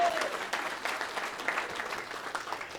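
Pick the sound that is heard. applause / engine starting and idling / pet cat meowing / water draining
applause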